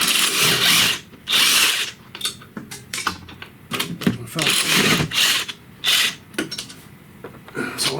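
A half-inch drive power tool rattles in repeated short bursts on a Kia Sedona's transmission bolts, close and loud, separated by brief pauses.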